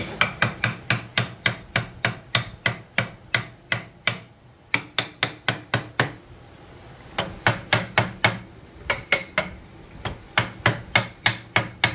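Rapid, rhythmic rasping strokes of a file on wood repeat steadily and close by, with a couple of brief pauses between runs of strokes, on a child's wooden rocking chair part.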